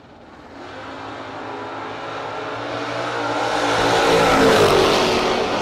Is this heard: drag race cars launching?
yes